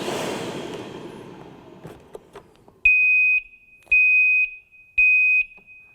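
A Milwaukee M18 FUEL 9-gallon dust extractor gives three loud, steady high-pitched electronic warning beeps, each about half a second long and evenly spaced, following fading mechanical whirring and a few soft clicks.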